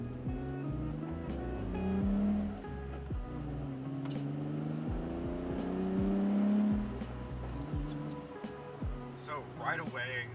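A Nissan 350Z fitted with a Cube short shifter drives along, its engine rising and falling through gear changes in a steady interior drone, with brief mechanical clicks.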